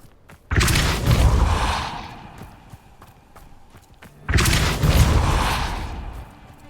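The Depulso spell is cast in the Hogwarts Legacy video game, sounding as two loud, broad whooshing blasts with a rumbling tail, each lasting about two seconds, separated by a quieter gap.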